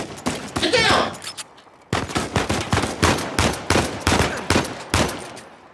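Rapid bursts of gunfire ring out in the Uncharted 4 video game, loud and close, with repeated sharp shots in clustered volleys and a brief gap partway through.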